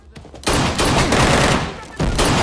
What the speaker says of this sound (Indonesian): tiba-tiba ia terkena tembakan, pertempuran pun dimulai antara kedua kubu